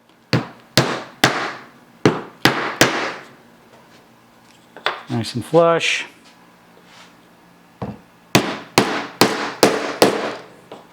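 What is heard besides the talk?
hammering dowels into wood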